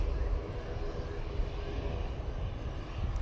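A Ryanair airliner on final approach to runway 05 right at Manchester Airport gives off a steady broadband engine roar, low rumble dominant, sustained at moderate loudness with no talk.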